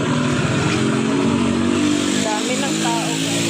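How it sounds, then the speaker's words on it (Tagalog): A motorcycle engine drones close by on a crowded street, holding a steady mid-pitched hum for a few seconds as people talk over it. "May motor, tabi."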